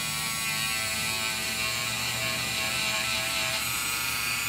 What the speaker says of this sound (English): take the little grinding wheel